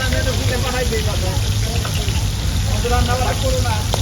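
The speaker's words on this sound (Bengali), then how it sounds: "ধোয়ার পরে আমরা চলে আসলাম, মাছ ভাজা শুরু হয়ে গেল" Hilsa fish fry in hot oil at an outdoor riverside spot, a loud continuous crackling sizzle like rain that runs throughout under a constant background hum.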